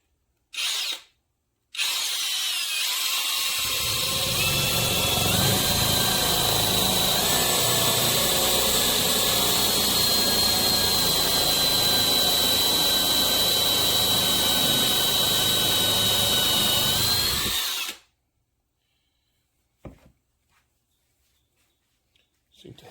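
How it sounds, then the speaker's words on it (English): Greenworks 24V brushless cordless drill with a 1/2-inch bit bores into well-seasoned live oak, a loud steady motor whine lasting about fifteen seconds after a brief start, then stopping abruptly into near silence. "1/2-inch drill, first drilling test, using the maximum 1/2-inch bit."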